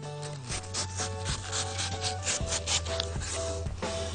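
A knife cuts through a watermelon, its rind and flesh giving repeated close, rasping rubbing strokes in a steady rhythm over a low hum for the whole stretch, with no voices.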